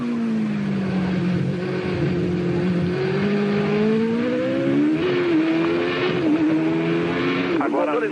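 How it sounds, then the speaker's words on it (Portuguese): Formula 1 cars from 1989 sit on the grid at the rain-soaked Australian Grand Prix, engines droning and revving steadily with a rising, wavering pitch, while a commentator speaks over the continuous roar. "Agora, Os motores estão roncando."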